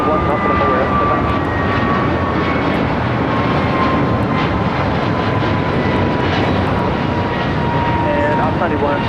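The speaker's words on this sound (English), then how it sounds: "This is American Airlines 297 taking off to Honolulu on an A321neo." An American Airlines Airbus A321neo taking off at LAX, a loud, continuous engine roar with a high whine that stays steady throughout, close and overwhelming, as voices talk faintly underneath.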